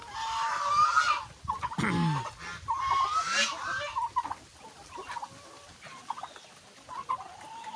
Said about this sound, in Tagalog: Dami ng mga manok guys ano.